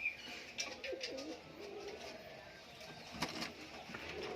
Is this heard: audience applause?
no